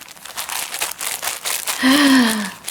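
Crisp crunching and crinkling of glassine paper inside fabric, handled up close in bursts, ending with a brief tonal squeak.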